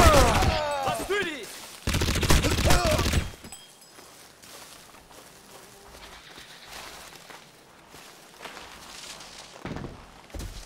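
Gunfire in the PC shooter Crysis, running on Intel HD 4000 graphics: dense bursts of automatic fire in the opening seconds, then quieter footsteps and ambience, with another burst at the end.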